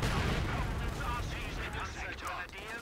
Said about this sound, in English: get some grenadiers firing on this